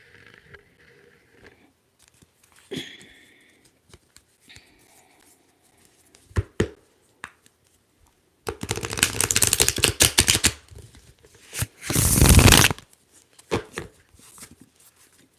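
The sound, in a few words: shuffling tarot cards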